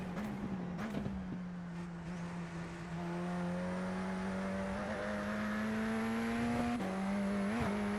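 A race car engine in the iRacing sim drones steadily and smoothly, its pitch creeping upward as it holds speed, with no talk over it.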